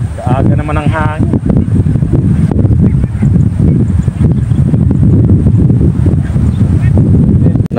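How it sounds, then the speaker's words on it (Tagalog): Strong gusting wind outdoors buffets the microphone with a heavy, continuous low roar while several people chat close by throughout. "Sobrang lakas ng hangin no."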